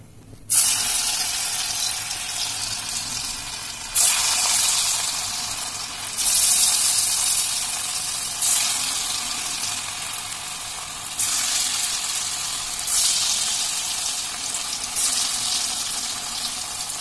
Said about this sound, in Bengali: এবার এই তেলে আমি এগুলোকে ভেজে নেব।